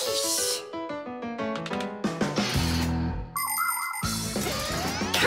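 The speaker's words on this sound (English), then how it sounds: "Come and check out our Fixie ringtone." A cartoon mobile phone ringtone from The Fixies: a bright, chiming electronic melody of quick bell-like notes and jingly synth tones, loud and alone, changing texture partway through.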